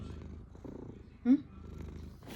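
A fat orange cat purrs in a low, steady rumble close by, with a brief louder vocal burst in the middle.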